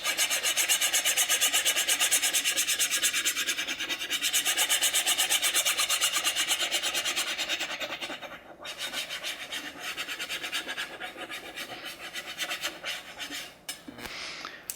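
A MIG 5 graphic transfer is burnished onto a mold with steady, continuous rubbing and rasping strokes, close and fairly loud throughout, easing slightly partway through, with no talking.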